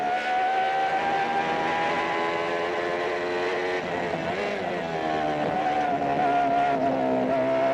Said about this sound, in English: listen to that Renault V10 engine